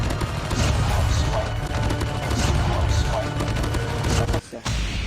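Rapid gunfire and explosive bursts from a Call of Duty battle royale match fill the clip loudly and continuously, with a brief drop near the end before the shooting resumes.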